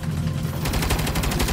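Rapid turret gunfire in Saints Row, loud close bursts of fast repeating shots that start after a brief lull and keep hammering to the end.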